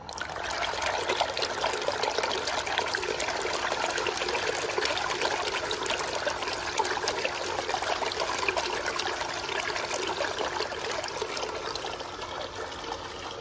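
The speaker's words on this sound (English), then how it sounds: "And then we place this pump into water to inspect its real water pumping performance." A SHYSKY DC60G-24120S DC water pump runs submerged, producing a steady, continuous trickling and splashing of water that stays even and fairly loud throughout, with no talking.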